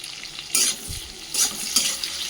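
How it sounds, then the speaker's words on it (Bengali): Capsicum pieces, dusted with a little salt and turmeric, frying lightly in refined oil for chilli chicken: a soft sizzle with a few bursts of stirring and scraping in the pan, close and moderately loud, no talking. "এবার ক্যাপসিকামগুলো আমি হালকা ভেজে নেব।"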